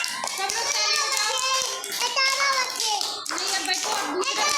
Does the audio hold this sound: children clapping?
yes